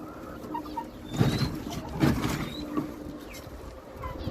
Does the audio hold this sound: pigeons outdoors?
yes